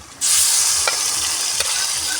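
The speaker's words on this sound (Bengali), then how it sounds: "ভাজা পেঁয়াজের ভিতরে আমি মাংসটা দিয়ে দিয়েছি। এবার ভালো করে নেড়ে চেড়ে মিশিয়ে নেব।" Chicken pieces stirred into fried onions in a hot pan, with a loud steady sizzle starting abruptly and a couple of brief scraping knocks from the spoon, no voices.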